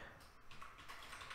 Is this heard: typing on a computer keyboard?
yes